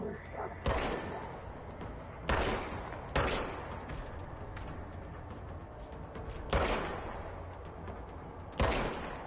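Gunfire from the player's gun in Control: five sharp, loud single shots spaced irregularly across a quiet game background, with no talk.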